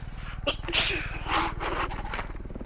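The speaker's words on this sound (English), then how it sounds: "Bless you." Someone sneezes once, loud and close, during a Fortnite gaming session, with another voice talking around it.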